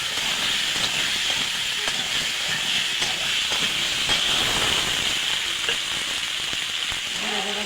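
Tomato and potato pieces go into a hot frying pan for a raw-tomato fish curry, giving a loud, continuous hissing sizzle that stays dense and close throughout, with no talk over it.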